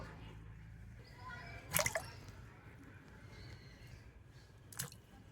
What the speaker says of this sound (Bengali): তো এখানে একটা বাটির মধ্যে জল নিয়েছি, তো আমগুলো কেটে জলের মধ্যে দিয়ে দেব।